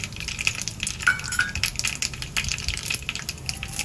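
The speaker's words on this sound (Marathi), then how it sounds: "फोडणीला तमालपत्र घालूया, दालचिनी घालूया, 2 वेलच्या घालूया, 2-3 मिऱ्या आणि 2-3 लवंगा" Whole spices for tempering, including bay leaf, cinnamon, cardamom, peppercorns and cloves, fry in hot oil with a soft, crackling sizzle and faint stirring, fairly quiet and with no speech.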